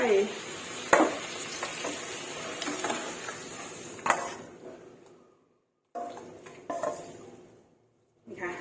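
Eggs and pork hit a hot pan with a loud sizzle and clatter, crackling steadily, then fading into short bursts of frying with quiet gaps.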